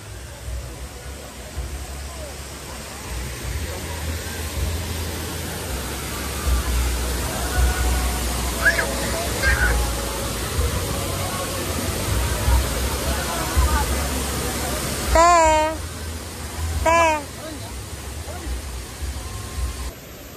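Steady broadband rush of a waterfall at Bato Springs Resort in San Pablo, Laguna, a continuous roar with a faint hum of people talking in the background and a couple of brief chirpy sounds near the end.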